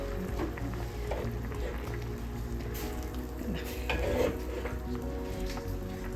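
Food being stirred in a cooking pan, a steady low sizzle with occasional soft scrapes and knocks of the spoon, heard up close.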